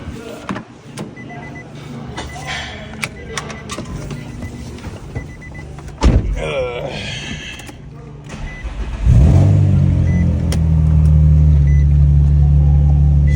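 Background clatter and rustling give way to a sweeping mechanical whine, then a steady loud electric pump hum drones on, like car hydraulics being run.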